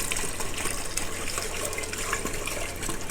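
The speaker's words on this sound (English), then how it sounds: "I'm just going to whisk constantly while pouring this stock in." Turkey neck stock pours steadily into a pot while being whisked, a continuous close watery gush with a faint scraping rhythm, no voices.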